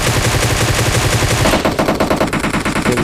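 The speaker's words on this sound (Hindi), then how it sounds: "एक ही टाइम पे हम दोनों ने मारा, लेकिन मेरी गोली पहले पहुंची क्योंकि मैंने जल्दी फायर किया था" Rapid automatic gunfire from the PUBG Mobile video game rattles loudly and continuously, with dense bursts of shots that shift to slightly different sounding fire midway through, and no talking.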